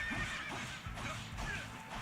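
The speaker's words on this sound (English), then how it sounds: "Hitting an innocent horse." A horse in a Nintendo video game whinnies loudly after being struck, a repeated shrill neighing with hoof clip-clop over about two seconds, with no talk.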